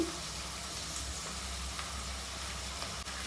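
Ginger garlic paste frying in a pan with onion and green chilli while chicken sambar is being cooked village style, giving a steady soft hiss of sizzling with no talk.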